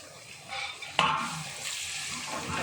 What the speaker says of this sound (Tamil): தக்காளி போட்டு நல்லா வதக்குங்க.